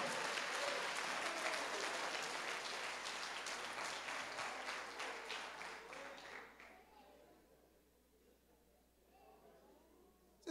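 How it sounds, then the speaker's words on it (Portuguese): A church congregation claps and applauds loudly for several seconds, then the applause fades into quieter crowd murmur and a voice near the end. "Aplauda mais forte."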